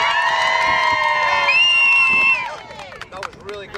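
A crowd out in Rosslyn cheers and whoops loudly for about two and a half seconds, with high shouts over steady noise. It then fades into scattered voices and calls.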